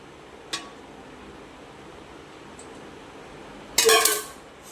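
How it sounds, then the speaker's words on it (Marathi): A steel pot is handled with a sharp metallic clink, followed by a short, bright clatter as oil is poured in for cooking, with quiet room noise in between. "आता आपण ते स्टीलचा टोप घेतला आहे, त्याच्यामध्ये आपण तेल टाकून घेऊया."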